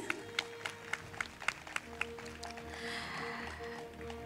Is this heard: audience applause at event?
yes